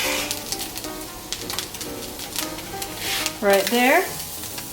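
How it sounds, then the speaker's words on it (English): Garlic cloves dropped into a pan of browned ground beef, sizzling and crackling steadily while being stirred, with a short spoken remark in the middle. "Now we're going to add in the garlic."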